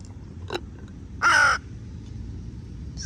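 Crows caw outdoors: a faint single call near the start, then one loud, harsh, drawn-out caw at the midpoint, with a soft distant call at the end over low background rumble.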